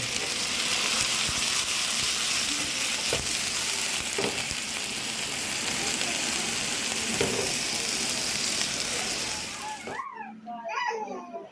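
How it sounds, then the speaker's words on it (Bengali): Fresh chicken sizzles and spatters steadily in a hot pan of oil for homemade fried rice, a loud continuous frying hiss that cuts off abruptly near the end, followed by a brief voice. "এভাবে চিকেনটা ভেজে নেবেন ফ্রাইড রাইসের সাথে"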